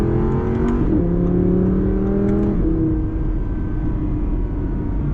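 A 2015 Audi R8 V10 Plus accelerates hard, its engine note climbing through two upshifts with a brief dip at each, heard from inside the cabin with no talk.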